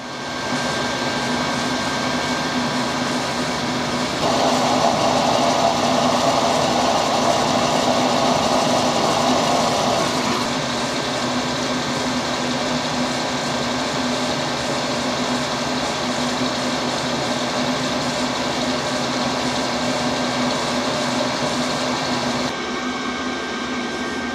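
Milling machine cutting brass, a continuous steady whine and motor drone that swells louder for several seconds mid-cut before settling back, close by with no voices.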